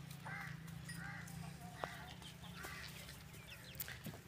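A rooster crows at a distance in an Indian village, faint calls repeating against a steady low hum, with a couple of sharp knocks in between.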